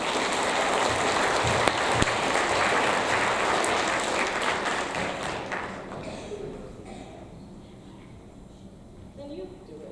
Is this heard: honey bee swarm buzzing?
no